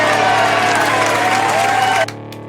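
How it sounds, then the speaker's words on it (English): Studio round of applause on a rock radio show, a dense steady burst of clapping with a sustained tone running beneath it, cutting off abruptly near the end. "That gets the Griffiths round of applause."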